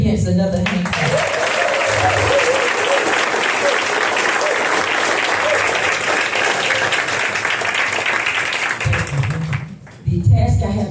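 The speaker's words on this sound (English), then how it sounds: "Let's give the recipients another hand clap." A crowd at a Glynn County Sports Hall of Fame senior ambassador honors ceremony applauds the recipients in a loud, sustained wash of clapping that fades out near the end, with a voice briefly heard at the edges.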